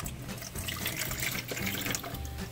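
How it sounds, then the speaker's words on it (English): Water splashes and pours steadily onto leaves in an aquarium tank for a couple of seconds, a close, continuous trickling wash with no voices. "I'm gonna dump some water on these leaves."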